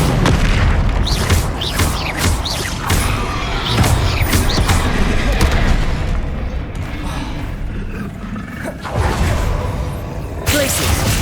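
Repeated Confringo blasting spells in the video game Hogwarts Legacy detonate as loud booming explosions, one after another in quick succession over a constant bed of combat noise and crashing debris.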